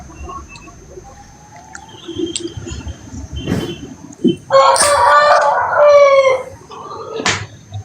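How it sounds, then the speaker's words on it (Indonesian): A rooster crows loudly once, a long wavering cock-a-doodle-doo, with scattered clucks and faint cricket-like chirps around it and no talking. "Itu ayamnya masih berkokok Pak Pendeta Arif."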